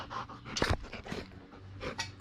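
Graham, a young dog not yet a year old, pants close by in quick, breathy rhythmic huffs, with a few louder gasps scattered through.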